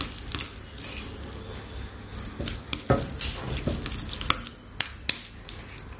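Garlic bread topping with fresh coriander being stirred together in a bowl gives soft, wet squishing, punctuated by a few sharp clicks of the spoon against the side, close and clear with no voices.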